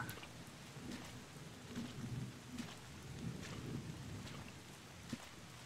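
Rain and thunder in the video game Bottle Pilgrim: faint, distant-sounding steady rainfall with soft low rumbles rising and falling, very quiet overall and without speech.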